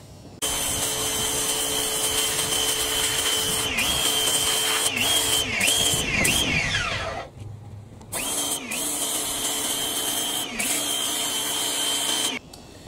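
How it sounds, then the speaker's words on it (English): High-pressure power washer blasting meat out of a deer skull for a European mount, a loud steady hiss with pitch dips as the spray shifts, cutting out briefly near the middle before resuming and stopping near the end. "So we'll go back out the power washer real quick. I'm going to hit that one more time and speed it up."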